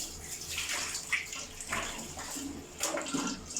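Warm water poured over a newborn baby during an Indian-style bath, a steady splashing trickle that runs throughout with brief louder gushes.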